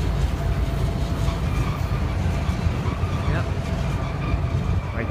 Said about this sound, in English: I think it's a mixed freight train.